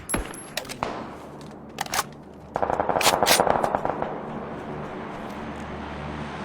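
Rapid bursts of video game gunfire ring out, with sharp isolated shots early on followed by a denser stretch of automatic fire. Firing then gives way to a steady, quieter background.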